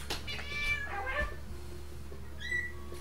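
A long-haired cat meows a few times, close and fairly clear, with short drawn-out calls over a low steady hum in a quiet room.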